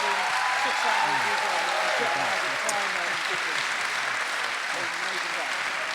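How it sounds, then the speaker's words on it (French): Large audience at a church talk giving steady, dense applause that fills the room at an even level, with a few scattered voices beneath. "Merci beaucoup pour vos applaudissements."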